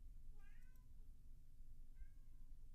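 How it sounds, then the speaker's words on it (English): Cat meowing from a booth during a televised poker game: two faint, distant meows, the first longer than the second, over a steady low room rumble. "Poker Cat having issues at the moment"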